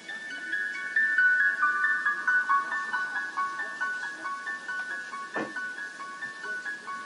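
A synth tone run through a filter effect in FL Studio phases in and out, giving a steady pulsing, wavering ring at moderate level, with a brief soft knock near the end.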